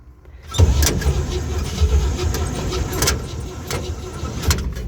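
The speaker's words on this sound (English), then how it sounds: "Uh-oh, the Bendix isn't even engaging." An old tow truck's starter motor whirs steadily with its Bendix drive not engaging, a continuous mechanical spin that starts after a brief quiet moment, with a few sharp clicks scattered through it.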